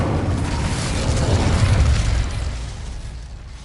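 The Incendio fire spell cast in the PS5 game Hogwarts Legacy, a loud, dense whooshing burst of flame that swells for about two seconds and then tails off, with no talking.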